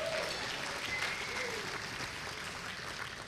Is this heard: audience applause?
yes